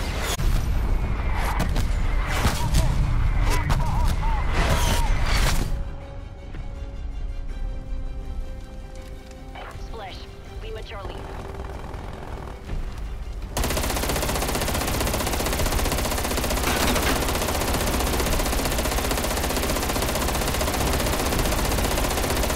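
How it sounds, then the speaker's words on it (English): An artillery strike hits in Call of Duty Black Ops Cold War, with heavy rapid gunfire and booming blasts at first, then a lull of distant shots before a loud, sustained roar of impacts and rumble. "Calling in artillery."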